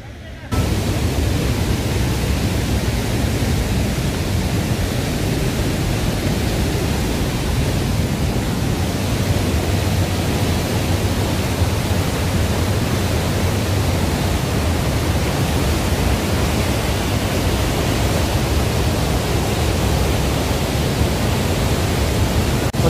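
A waterfall near Mahendra/Mukteshwar cave in Pokhara, Nepal makes a constant, loud broadband roar of rushing water that fills the whole stretch without a break.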